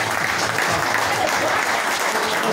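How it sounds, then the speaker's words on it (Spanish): A dinner reception crowd at the Copa Ricardo Gonzalez gives a loud, steady round of applause, dense clapping filling the brief moment with little else heard. "fuerte aplauso para Marcos"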